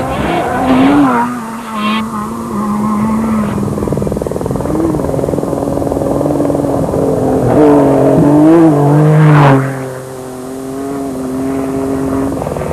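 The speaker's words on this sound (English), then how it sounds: "Familiar flat exhaust note to many of Mitsubishi's rally raid cars" A Mitsubishi Pajero rally raid car's flat, raspy exhaust note rises and falls as it accelerates and shifts during the 2001 Dakar Rally, loud and close with no talking.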